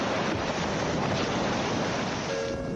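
Freezing cold ocean surf crashes and churns in an unspoilt wilderness, a broad, loud, continuous roar with wind buffeting the microphone.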